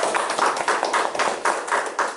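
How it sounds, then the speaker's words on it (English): Steady applause from an audience at a public speaking session, dense overlapping claps with slight surges, continuous for a couple of seconds with no talking. "And round of applause."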